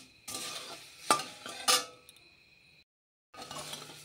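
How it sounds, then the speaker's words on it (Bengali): Dry puffed rice tossed and stirred in a hot wok over a gas stove, a close rustling, scraping clatter in uneven bursts with a short silent gap before the stirring resumes. "মুড়িটা গরম করে নিচ্ছি"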